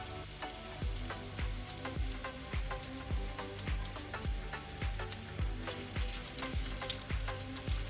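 Onion, green chili and bay leaf frying with whole spices in hot oil give a steady loud sizzle, broken by regular scraping stirs of a spoon against the pan, with no talking.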